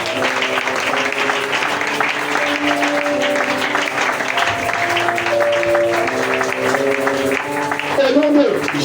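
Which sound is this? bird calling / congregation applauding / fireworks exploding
congregation applauding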